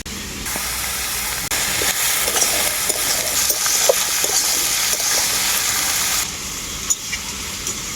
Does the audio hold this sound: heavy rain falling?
no